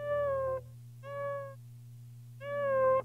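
Electric guitar phrases bent and shaped to imitate a tabby cat's meow, three wavering meow-like notes rising and falling over a steady low amp hum, with no talking.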